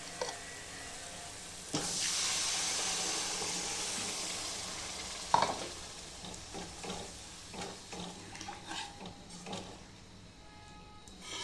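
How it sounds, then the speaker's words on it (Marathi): Water hitting fried masala in a pan for a fish curry, a sudden loud hiss and sizzle that slowly fades, followed by scraping stirs and a sharp clank of a utensil. "आता हे मसाला आपला फ्राय झाला त्याला तेल सुटलेले आता मी त्याचं पाणी टाकते"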